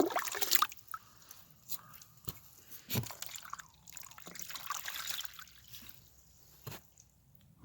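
Hot water is poured and trickles into a prospecting pan during beach gold panning, a faint uneven dribble with scattered drips and small splashes, close by and quiet.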